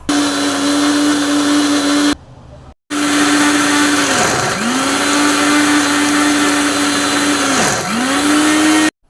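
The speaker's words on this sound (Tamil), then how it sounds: "லைட்டாக தண்ணி ஊற்றி க்ளீனாக அரைச்சி எடுத்துடலாம்" A blender grinds bitter gourd leaf chutney with a little water, loudly with a steady whine, stops briefly, then restarts, its motor pitch dipping twice under load before recovering.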